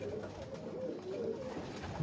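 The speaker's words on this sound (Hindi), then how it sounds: "ये कबूतर जी बिल्कुल टोनी टोनी ब्रीड के कबूतर" Tony-breed pigeons coo softly in a loft, a steady low, rolling murmur across the short stretch with no talk.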